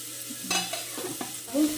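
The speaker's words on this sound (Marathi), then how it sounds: "कांदा टाकूया आणि चांगलं असं परतून घ्यायचं" Onion with chili masala being stir-fried in a pan: a soft sizzle broken by several scraping stirring strokes and a louder scrape near the end, close and brief, no speech.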